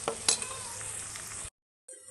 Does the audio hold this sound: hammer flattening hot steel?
no